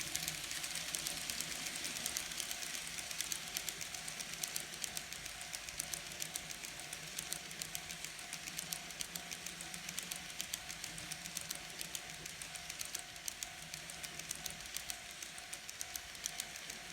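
A Kato N scale Broadway Limited model train runs steadily on its track, a continuous low rumble with fine high clicking and hiss, quiet and unbroken throughout.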